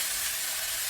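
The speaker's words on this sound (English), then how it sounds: "spray it just to grease the pan" Cooking spray hisses steadily and close up as it greases a non-stick pan for Nigerian meat pie filling, one continuous spray burst.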